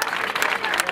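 Short burst of crowd applause at a health workers' protest gathering, dense clapping under some voices throughout.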